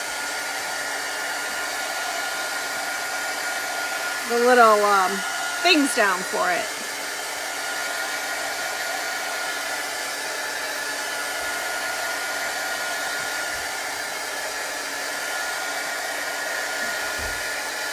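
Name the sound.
hair dryer drying ink on a Chalk Couture transfer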